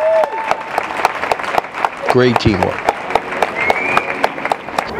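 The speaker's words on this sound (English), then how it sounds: "And the dog receives a thunderous applause." A crowd claps at the 2013 IPO/Schutzhund world championship protection phase, with sharp, scattered claps ringing out over a continuous wash of applause while someone briefly speaks partway through.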